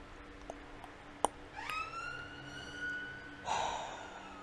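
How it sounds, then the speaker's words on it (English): An ambulance siren wails outside a house, a rising, steady electronic tone heard at moderate distance through the window and growing louder near the end. "there won't be any screechy sirens that start just outside my house. I wish whoever's in the ambulance all the best"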